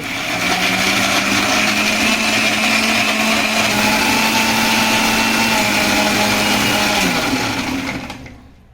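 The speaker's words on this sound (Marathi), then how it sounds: "कांदा टोमॅटो थंड झाले तर मी मिक्सरच्या भांड्यात हे बारीक पेस्ट करून घेते" A mixer grinder blending onion and tomato into paste whirs loudly and steadily for about seven seconds, then winds down and stops.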